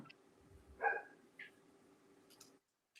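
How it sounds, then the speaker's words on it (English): A dog barks in a backyard, one faint bark followed by a softer yip, distant and muffled over a low hum before the sound drops out. "Barking from the backyard?"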